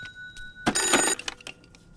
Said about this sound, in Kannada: ಬಂತು ನೋಡು ಫೋನು ಅವ್ರದೇ ಇರ್ಬೇಕು